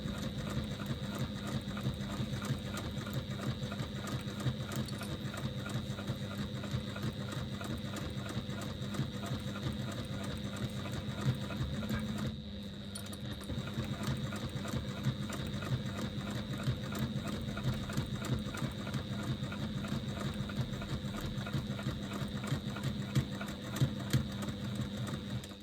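A Juki TL98P straight-stitch sewing machine runs in a fast, steady mechanical rhythm, stitching continuously with one brief pause midway before resuming.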